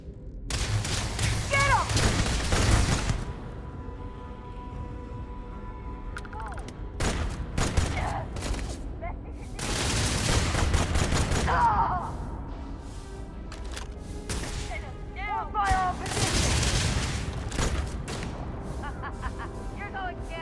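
Gunfire in Starfield arrives in several loud bursts of shots separated by quieter stretches, with a person talking at times between the volleys.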